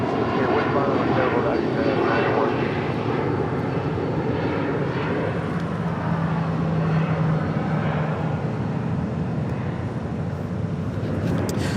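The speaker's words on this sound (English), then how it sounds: "just landing Volaris flight 916 coming in from Guadalajara in an A320" A Volaris Airbus A320 jet landing at LAX, a loud steady engine roar filling the whole stretch with a broad rumbling wash, continuous and close.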